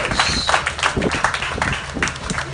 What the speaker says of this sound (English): Give Minister Liebert another round of applause.